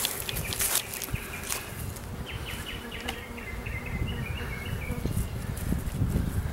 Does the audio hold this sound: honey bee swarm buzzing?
yes